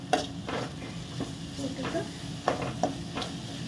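Chilies fry in oil for a dhaba-style mutton fry, a low continuous sizzle with a few sharp stirring knocks of a spoon against the pan, close and fairly quiet.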